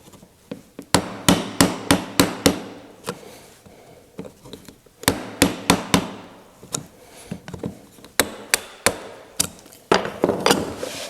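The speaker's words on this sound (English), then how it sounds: "Now this deep dado I'm cutting right now, this has to accommodate this little locking mechanism here." A deep dado is cut by hand into a wooden gunstock for a 1920 Ithaca Flues double-barrel shotgun, with sharp, close tapping strikes in quick clustered bursts separated by short pauses.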